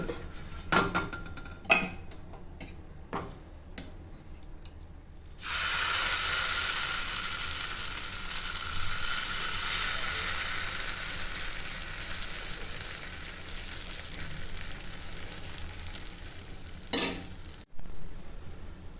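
A vegetable oats omelette sizzles in ghee in a kadai, a loud, steady frying hiss that starts suddenly, preceded by several sharp utensil taps and followed by a couple more clinks.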